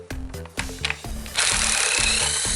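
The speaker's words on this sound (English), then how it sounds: "Now you can proceed by removing a few bolts with 10mm socket." Mechanical ratcheting and tool noise from a 10mm socket removing bolts on a Dodge 3.5 V6 intake manifold, with short clicking bursts followed by a louder, steady broadband whir, close and with no talk.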